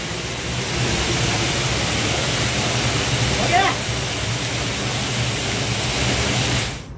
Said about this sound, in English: due to rains and waterfalls, the trek is very slippery